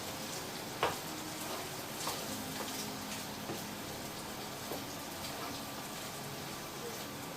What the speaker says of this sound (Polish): do tego tak ładnie wszystko wymieszamy i to się będzie smażyło.